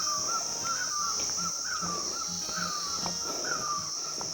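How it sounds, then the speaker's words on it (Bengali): Dense forest on the walk to Khecheopalri Lake near Pelling, with a steady high insect drone like crickets and repeated bird calls, including crow-like caws, rising and falling throughout at moderate distance. "ঝিঝি পোকার ডাক, নানান রকম পাখির শব্দ"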